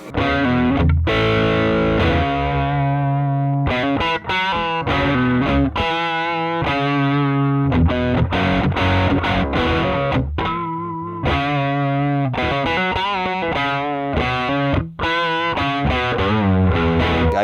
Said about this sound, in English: I play clean and then distorted and then really distorted, and sometimes I put some echo on there